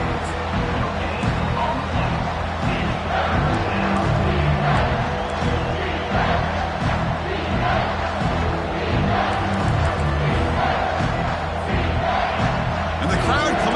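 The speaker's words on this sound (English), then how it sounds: "And the crowd coming to life here" Football stadium crowd roaring continuously as a defense works in the red zone, a dense, loud wall of cheering and shouting with a broadcast commentator talking over it.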